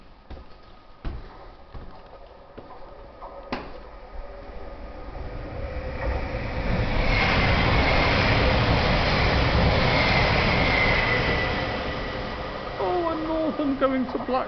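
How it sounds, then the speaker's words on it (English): A train pulls into Roby railway station, its rumble swelling from a faint approach into a loud, close roar of wheels and carriages, then easing into squealing brakes; a few clanks come before it. "I can hear another train coming."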